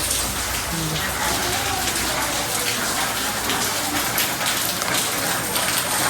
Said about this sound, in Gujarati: અહીંયા અમારે વરસાદ ધમધોકાર ચાલુ થયો છે